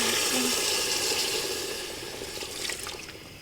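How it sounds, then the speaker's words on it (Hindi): Water is poured into a pot of fried meat, a continuous splashing gush that starts loud and tapers off over a few seconds, with no talking. "और इसके बाद हम लोग डालेंगे पानी, इसको थोड़ी देर बंद करेंगे ताकि ये थोड़ा नरम हो जाए।"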